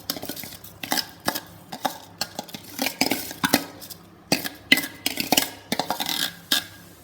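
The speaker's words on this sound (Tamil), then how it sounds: "இப்போது நம்ம வாஷ் பண்ணி வச்சுருக்கிற அந்த ரைஸை வந்து இதில் ட்ரான்ஸ்ஃபர் பண்ணுறோம்" Washed rice goes into a pot of boiling tomato water for tomato rice, heard as a series of irregular metallic scrapes and clinks of utensil against pot, close and fairly loud with no talking.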